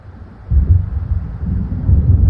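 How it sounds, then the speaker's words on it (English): Low rolling thunder from an approaching storm in Alan Wake Remastered rumbles in near-continuous waves. It swells louder after a quieter start, with a windy, hissing edge and no voices. "It seems there's a storm coming."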